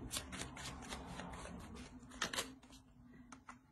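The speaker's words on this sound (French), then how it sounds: "Je vais rajouter une carte." A playing card slid into a deck during close, quiet handling, with soft riffling and flicking of card stock in a rapid series of papery bursts.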